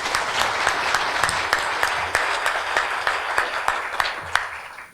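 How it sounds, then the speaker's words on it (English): An audience at the 2024 Saskatoon mayoral candidate debate claps for candidate Don Atchison: a sustained round of applause with a few sharper individual claps standing out near the front. "Round of applause for Don Atchison."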